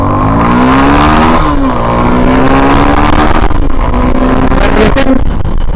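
A Suzuki V-Strom 250 SX motorcycle pulls away in first gear, its engine note climbing steadily, dipping at a shift and rising again, loud and close.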